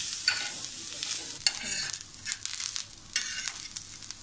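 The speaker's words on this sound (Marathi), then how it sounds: "मध्य आचेवर थोडंसं आपल्याला याला भाजून घ्यायचं आहे." Grated coconut roasting in a pan over medium heat while being stirred, giving a soft, steady sizzle with repeated scraping strokes of the spoon against the pan, close and fairly quiet.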